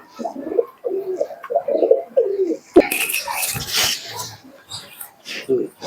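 Giribaj pigeons in Murshidabad give several soft, low cooing calls in a row, close by, and someone talks over the later part of the calls.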